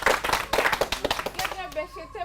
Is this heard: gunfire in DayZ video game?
no